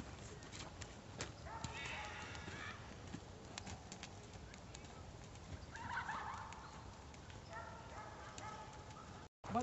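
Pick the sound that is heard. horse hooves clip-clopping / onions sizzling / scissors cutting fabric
horse hooves clip-clopping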